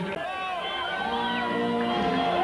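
Large crowd cheering and whooping at the podium after a motorcycle endurance race at the Paul Ricard circuit, a dense steady wall of voices with scattered shouts, close and continuous.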